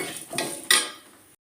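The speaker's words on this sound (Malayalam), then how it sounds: "നമുക്കൊന്ന് വറുക്കാം ഒന്ന് ഇച്ചിരി ബ്രൗൺ വരെ അല്ലാതെ ഒന്ന് പൊടിക്കാൻ പാകത്തിന് ഇച്ചിരി മൂക്കണം" Horse gram is dry-roasted in a pan, heard as a couple of short scraping stirs and rattling grains against metal, close and brief.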